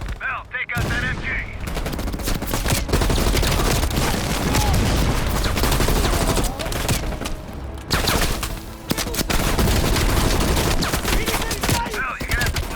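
Machine gun fire from the Call of Duty Black Ops Cold War video game: sustained, loud rapid bursts with booming impacts that fill nearly the whole stretch, and a brief lull after the opening.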